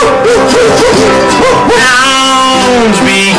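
An audience joins in imitating dogs, with human voices yipping and barking and then drawing out long wavering hound-like howls. The chorus is loud and continuous through the short stretch.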